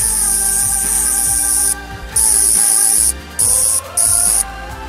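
A Tenth Doctor sonic screwdriver toy buzzes with a loud, high electronic whine that cuts in and out in several bursts, layered over a lower warbling hum.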